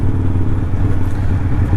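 A Harley-Davidson Evo 1202cc V-twin engine idles steadily close by, a loud, continuous low rumble with dense mechanical clatter and no pauses or revving.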